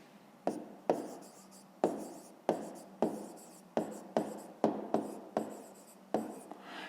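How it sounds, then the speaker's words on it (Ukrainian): Handwriting on paper while solving a fifth-grade maths exercise: a series of close, crisp scratchy pen strokes, each starting with a sharp attack and trailing off, arriving in an irregular rhythm of about a dozen strokes with no talk. "записуємо відповідь"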